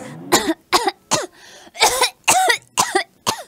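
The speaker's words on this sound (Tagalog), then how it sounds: "magso-soft launch ako ng ubo" Repeated coughing, around eight sharp close bursts in an uneven rhythm with short pauses between them and a brief throat-clearing sound partway through.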